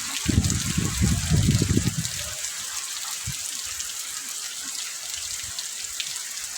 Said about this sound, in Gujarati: વરસાદ જોરદાર